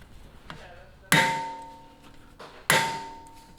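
Two sharp metallic hammer strikes on a manual impact driver, loosening a bolt on a Genesis Coupe brake caliper, ring out about a second and a half apart, each leaving a bright, fading clang.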